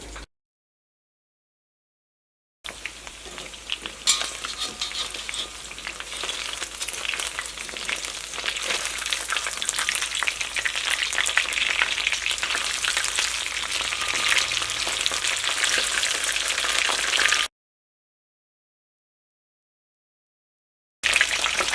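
Chicken pieces fry in hot oil for spicy chilli chicken, a dense, steady crackling sizzle heard close up for about fifteen seconds between stretches of silence.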